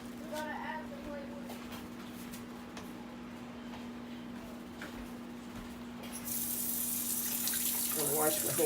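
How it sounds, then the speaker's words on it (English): A kitchen tap begins running partway through for handwashing, its steady bright hiss of water rising over a low electrical hum after a stretch of quieter room noise. "I'm going to wash my hands again"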